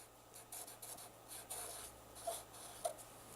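Pencil writing a word by hand on paper in a first-grade classroom, a faint, soft scratching in short bursts of strokes, close and quiet, with no talking.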